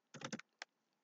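Several quick taps on a computer keyboard in a short burst, then one more isolated keystroke after a brief pause, close and fairly quiet with no talk.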